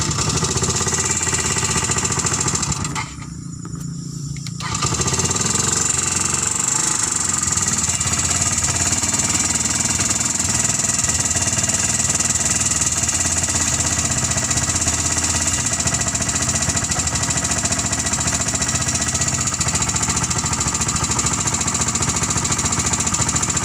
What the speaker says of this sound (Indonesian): Coba kita kasih bunyi lagi, dan bunyikannya cukup pakai starter tangan seperti biasa.